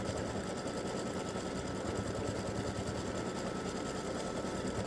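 Embroidery machine stitching free-standing lace bee earring wings, a steady, fast mechanical whir with dense needle rhythm running continuously at even volume throughout.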